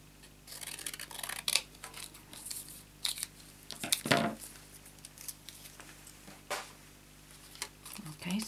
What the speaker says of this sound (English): I'll cut off some of the edges so that it's easier for my punch to get in there